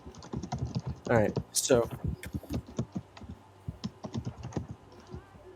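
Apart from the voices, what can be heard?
typing on a computer keyboard picked up by the mic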